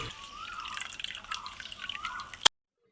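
Water drips and trickles from washed chhana as it is squeezed by hand, a faint, soft run of close drips that ends abruptly in silence.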